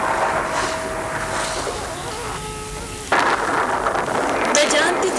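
Steady rain with rolling thunder, used as a monsoon storm effect in a Hindi stage play, fills the clip as a loud, continuous wash that swells sharply near the middle, with a faint voice underneath.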